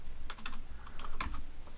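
Quick bursts of typing on a computer keyboard, several rapid keystrokes close by and fairly faint, with brief pauses between clusters and no talking.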